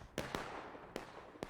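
Four sharp cannon blasts from an artillery crew in a Civil War battle game at Hagerstown Turnpike, spaced irregularly and fairly loud over faint background noise.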